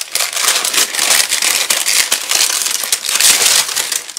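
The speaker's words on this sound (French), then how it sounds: "C'est un papier assez bruyant," Loud, close crinkling and crunching of parchment paper being handled, in rapid bursts of rustle with no talking.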